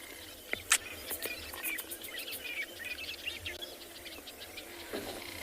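Scattered bird chirps and calls by a waterhole at sunrise on safari, with Egyptian geese nearby, soft and somewhat distant, over a low steady background hum with faint insect sounds.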